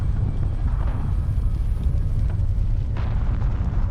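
Bomb explosions in the game Reverse 1999: a continuous deep, rumbling roar of blasts, steady and heavy in the low end without clear separate bangs.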